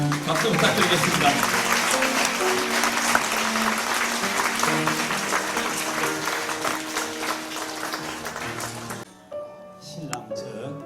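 Wedding guests applaud steadily through a Korean wedding ceremony at Milal School, the clapping dense and sustained under a bed of music before thinning out near the end.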